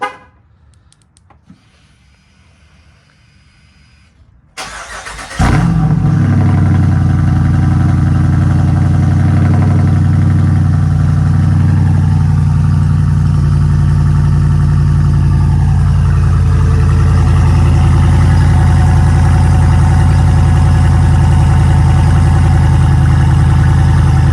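2021 Jeep Wrangler 392 V8 with resonators, on 40-inch tires, cranks after a few seconds of near quiet, catches with a loud flare, then settles into a steady deep, rumbling idle that continues close and loud.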